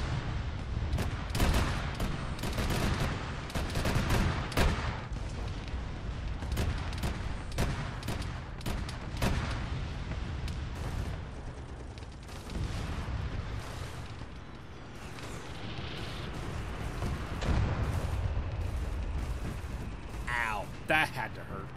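In a battle in the ARMA 3 combat game, close-range artillery and gunfire boom and crack in dense, irregular volleys with rumbling explosions, loud and continuous throughout, with voices talking at times.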